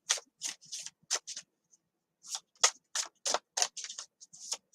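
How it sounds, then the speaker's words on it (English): Tarot cards are shuffled by hand in quick, crisp riffling bursts with short pauses between them, close and clear with no talking. "I just got told to stop shuffling this one and use the Tarot Decorative"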